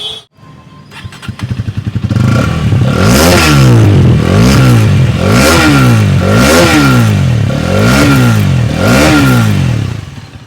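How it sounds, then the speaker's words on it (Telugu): A 2024 Hero Karizma XMR motorcycle with a DOHC engine starts up and idles, then is revved hard five or six times in a steady rhythm, each loud, close exhaust blip rising and falling back. "ఇప్పుడు మీకు ఎగ్జాస్ట్ నోట్ ఒకసారి వినిపిస్తాను ఈ బండిది"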